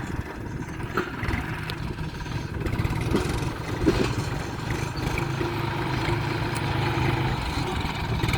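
A farm tractor's engine runs continuously at a steady, moderately loud chug, with no talking over it.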